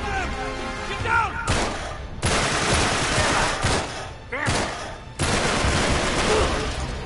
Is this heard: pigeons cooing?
no